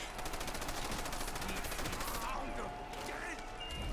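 Rapid, continuous bursts of PPSh submachine gun fire in Call of Duty: World at War zombies mode, loud and close, with faint game sounds underneath.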